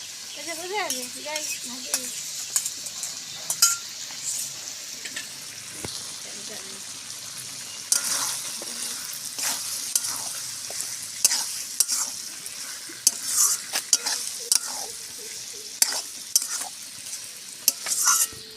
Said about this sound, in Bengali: ডিমটা দিয়ে আমি ভালো করে কষিয়ে নিয়েছি